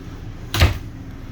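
The pantry door of a 2024 Wildwood 22ERAS travel trailer opens with a single short, close thump and click, then quiet.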